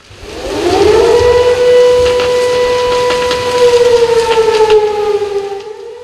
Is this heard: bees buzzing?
no